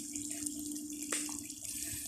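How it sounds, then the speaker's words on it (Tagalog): Water flowing steadily along an outdoor stream or channel in the Philippines, a continuous broadband rush with a steady low hum beneath it, one brief louder splash near the middle and no voices. "Umaagos na tubig."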